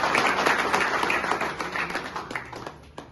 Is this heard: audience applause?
yes